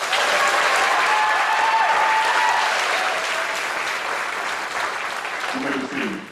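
A graduation audience gives sustained applause for National Honor Society inductees, loud and dense crowd clapping with voices and cheers mixed in, easing toward the end as a voice comes in.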